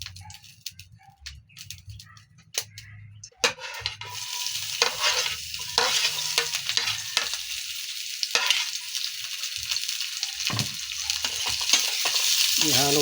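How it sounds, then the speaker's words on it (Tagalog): Broad sizzle of food frying in a hot pan with a little oil, rising after a quieter start, with scraping stir strokes throughout as it toasts; close and steady, no talking. "Ihalo-halo ng konti mga idol hanggang maging toasted na siya."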